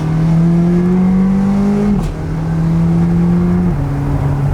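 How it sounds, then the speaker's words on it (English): A high-revving supercar engine drops in pitch at two upshifts, the first accompanied by a sharp exhaust pop, loud and close, at night. "it's now popping on the upshifts, which it didn't used to do"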